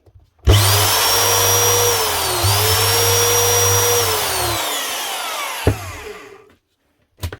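An old Hitachi DV20V2 impact drill runs at full power: a loud, close motor whine with a deep hum underneath, briefly dipping then recovering, before spinning down and ending with a clack and a few faint knocks.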